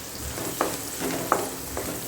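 Onions sautéing in a pan for chicken egg fried rice give off a steady close sizzle, punctuated by two or three light clicks of a spatula stirring.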